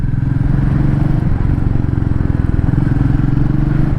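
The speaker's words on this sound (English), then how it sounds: "So go downshifting through the gears" A Royal Enfield Meteor 350 motorcycle downshifting through the gears in town, its single-cylinder engine thumping loud and steady with shifting revs throughout.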